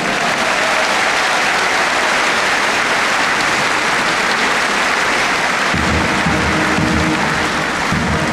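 A large audience at a military music festival in Albertville breaks into steady, loud applause welcoming the 27th Alpine Chasseurs Battalion fanfare band, with drums and brass starting to play near the end.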